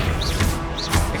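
A Confringo blasting spell impact in the Hogwarts Legacy video game: a short, loud, crackling burst with a whooshing, chirping shimmer that repeats twice in quick succession.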